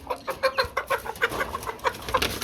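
Chickens cluck repeatedly in short, irregular bursts at a poultry seller's, close and fairly loud, with no talking.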